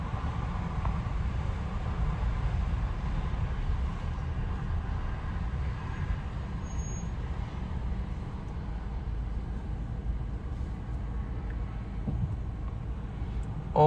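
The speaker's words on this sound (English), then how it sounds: "So you can barely see the train passing by, the coal train." A long Canadian Pacific coal train rolls past at a distance, a steady low rumble and wash of rail noise that holds without break throughout.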